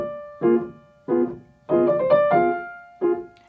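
Four short melodic figures on a sustained-toned instrument, each a quick ornamental turn around a note, separated by brief pauses, played alone and close.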